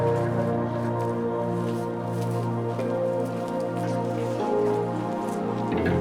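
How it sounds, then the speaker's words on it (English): Water splashes and patters steadily as hands are washed at a shrine basin outside Kongobu-ji in Japan, a continuous close trickle over a constant low drone. "before heading in, we did stop off here to wash our hands"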